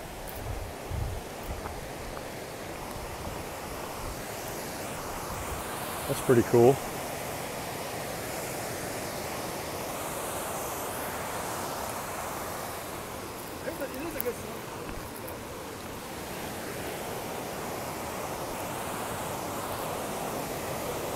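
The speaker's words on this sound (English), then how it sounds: "So let's check out this waterfall here." Dismal Falls on the Appalachian Trail pours as a steady, moderately loud waterfall roar throughout, with a person briefly speaking over it partway through.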